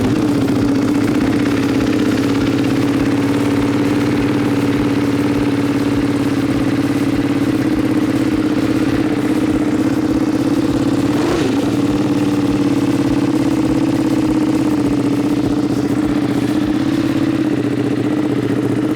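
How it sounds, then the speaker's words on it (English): A motorcycle exhaust idles steadily at a circuit, a loud, even mid-pitched rumble that holds throughout with a brief blip partway through, with no talking. "the exhaust on this just sounds awesome"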